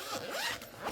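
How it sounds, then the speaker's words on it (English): Zippers on plastic storage folders being opened up close, a continuous rasping zip that runs for about a second with a small burst near the end. "there's going to be some zippers now because I've got them in these plastic folders"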